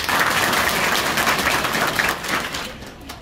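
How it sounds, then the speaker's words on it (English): A crowd at a Maulud gathering in Abuja claps briskly after a participant's presentation; the full, even applause holds for a few seconds, then thins and fades out. "This is a round of applause for you."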